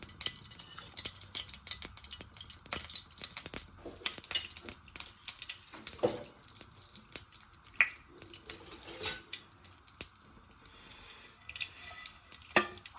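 Vermicelli roasting in ghee in a pan, a faint continuous sizzle broken by scattered scrapes and clinks of a spoon against the pan, with little talk.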